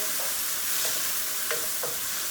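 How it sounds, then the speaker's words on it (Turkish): Steady sizzling from a very hot pot as a spoon scrapes and stirs thick tomato paste, with a few soft scraping strokes over the constant frying hiss. "Kapağı kapatmadan salçayı şöyle bir dakika kadar bir karıştıracağım."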